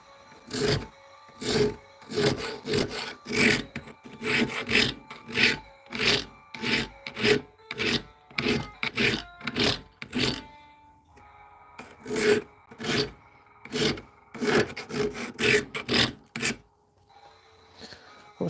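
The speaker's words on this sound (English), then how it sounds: "It's extremely hard aluminum. I neglected to pick up drill bits still, so we'll be doing the grinding method again." Hard aluminum workbench part being ground down by hand, a long run of close, rhythmic rasping strokes, about two per second, with a brief pause partway through and no talk.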